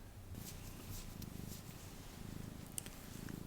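A house cat purrs close by in a quiet indoor room, a soft, steady low rumble running throughout with a faint rustle near the end.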